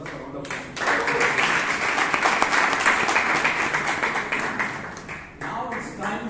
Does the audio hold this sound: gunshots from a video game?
no